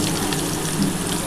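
Chopped onion sizzles in the leftover oil from frying bhola fish, a steady close hiss of frying with a faint watery crackle throughout and no talking.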